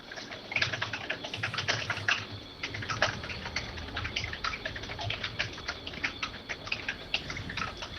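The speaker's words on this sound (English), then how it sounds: "I am typing" Steady, busy typing on a computer keyboard: a close, continuous patter of light key clicks with small pauses, running for several seconds without speech.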